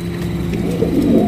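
Fancy pigeons coo nearby in a short, low, throaty burst that swells slightly toward the end.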